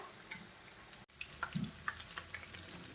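Chicken frying in hot oil for a simple chicken fry, with soft crackling sizzle and scattered pops over about three seconds, briefly cut by a short gap near the start.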